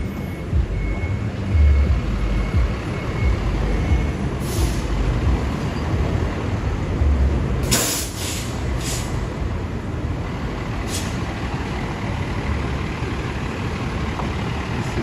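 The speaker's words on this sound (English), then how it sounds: "there's some traffic coming down Broadway right now." Steady traffic rumbles along Broadway in New York City, a continuous low roar of engines with a few sharp hissing bursts like air brakes, and no talking.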